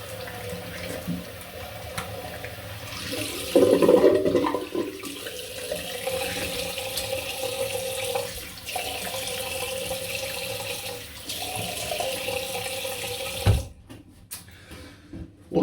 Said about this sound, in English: Drain that out and go for the rinse.